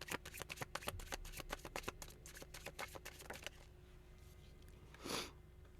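Tarot cards being shuffled by hand, a quick run of crisp riffling flicks for about three seconds, close and fairly quiet, then a soft rustle, with no talking.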